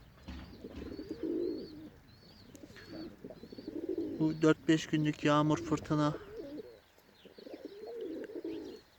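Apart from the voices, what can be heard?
birds cooing in a garden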